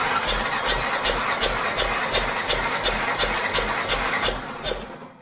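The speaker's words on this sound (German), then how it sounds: "werde jetzt mal mit dem Anlasser den Motor durchdrehen" A starter motor cranks the engine of a Waran 1501 F-HK during a compression test on an engine with very low compression. It makes a loud, continuous churning drone with a steady rhythmic pulse and tapers off abruptly at the end.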